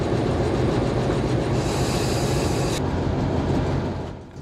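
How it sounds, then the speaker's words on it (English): The 59-year-old prime mover of vintage Katy Railroad diesel locomotive 142 rumbles in a steady, dense roar near Baldwin City. The noise is broadband and continuous, with a brief shift in tone partway through before it eases slightly at the end. No speech. "142's 59-year-old prime mover rumbles to life"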